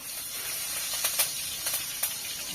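Mustard seeds and curry leaves hiss and sizzle in hot oil for a dal tempering in a home kitchen, a steady close hiss with a few sharp crackling pops.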